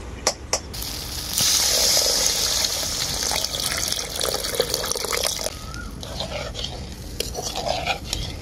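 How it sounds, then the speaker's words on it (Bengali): Water is poured into spiced fish masala for a doi katla curry, a close, steady splashing trickle that runs for several seconds, then gives way to softer stirring and dripping. "এখন এর মধ্যে দিয়ে দেবো পরিমাণ মতো জল।"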